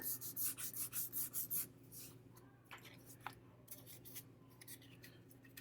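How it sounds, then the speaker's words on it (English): Sandpaper rubbing over filler on a small surfboard model: a quick series of about nine rhythmic, close scraping strokes, then softer scattered rubs and light handling noises. "I'll sand this a little bit. Make sure it's a nice smooth transition."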